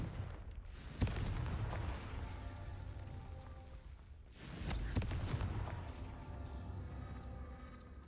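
Two loud explosive blasts from the Confringo spell in a Harry Potter video game, each a sharp boom followed by a long rumbling decay, a few seconds apart.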